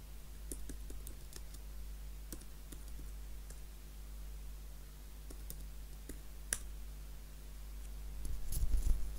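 Typing on a computer keyboard during a Windows 11 upgrade, with scattered light key clicks at an irregular pace over a steady low hum, closing with a quick burst of several taps.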